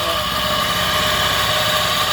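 A homemade ice cream machine's motor hums and vibrates continuously under load at close range, an even mechanical drone with no pauses or talking.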